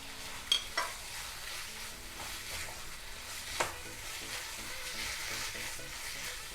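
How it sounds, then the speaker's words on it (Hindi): Sliced mushrooms fry in masala in a pan, a soft continuous sizzle broken by a few sharp scrapes and clinks of a spoon stirring, fairly quiet and close. "अब मशरूम को भी हम 2-3 मिनट के लिए अच्छे से भून लेंगे मसाले के साथ"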